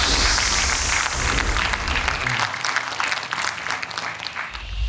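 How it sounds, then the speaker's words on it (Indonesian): An audience claps for a young contestant at a Quran memorization competition, a loud, steady burst of many hands that continues throughout and thins slightly near the end. "tepuk tangan dong untuk Raisa"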